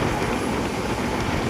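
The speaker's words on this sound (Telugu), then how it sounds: "జర్నీ చేస్తున్న ట్రైన్ నేమ్ వచ్చేసి తిరువనంతపురం సూపర్ ఫాస్ట్ ఎక్స్ప్రెస్." The Thiruvananthapuram Superfast Express running through Kerala, heard from on board as a steady, continuous rumble of wheels and carriage noise at an even level, with no voices.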